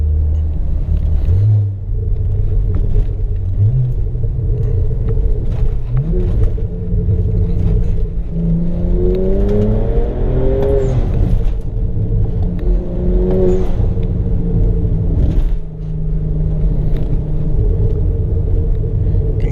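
A BMW 535i with the N54 engine and an exhaust cutout, heard from inside with the windows up: a steady low exhaust rumble and burble while driving, rising in pitch as it pulls through the gears.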